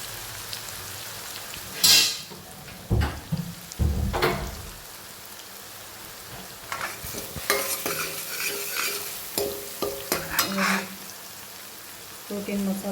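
Chopped ingredients are added to hot oil and stirred over a lowered flame, giving a continuous close sizzle with heavy thumps and scraping as they go in, then rattling stirring strokes layered over the frying.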